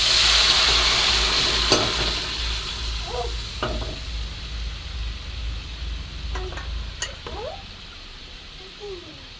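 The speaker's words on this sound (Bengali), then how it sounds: "পেঁয়াজটা লাল করে ভাজা হয়ে গেছে, এবার এতে ডালটি ঢেলে দেবো।" Continuous frying sizzle with a few sharp clatters and stirs as lentils go into hot onions fried until reddish-brown, a low hum underneath.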